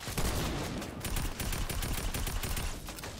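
Rapid bursts of gunfire in Fortnite crackle densely and loudly from up close, shots overlapping into a near-continuous barrage with no one speaking.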